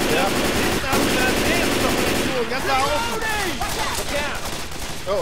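Sustained automatic gunfire in the zombie shooter Left 4 Dead 2: a dense, continuous rattle of rapid shots, loud and close, with excited voices shouting over it partway through.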